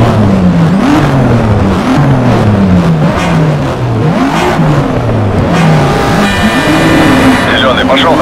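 Several car engines rev and idle at a race start in the Need for Speed Shift video game, wavering pitches rising and falling loudly and close, with a voice speaking over them.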